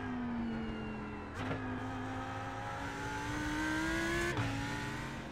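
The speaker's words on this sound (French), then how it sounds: "une Ferrari qui sort des cendres" Ferrari race car engine in a racing video game, revving steadily with pitch climbing and dipping through gear shifts, loud and continuous, no voices.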